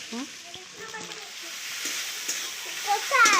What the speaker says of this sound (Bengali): মাংসের পেঁয়াজগুলো ছেড়ে দিলাম ভেজে মাংস